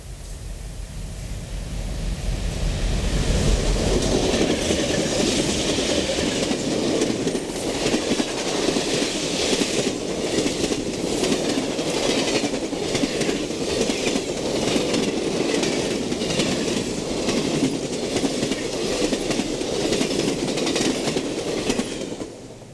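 Amtrak's Empire Builder passenger train, Number 7 with dome cars, passes westbound in Wisconsin, its steady rumble and rhythmic clickety-clack of wheels rolling on continuously and fairly loud, with faint wheel squeal, no voices.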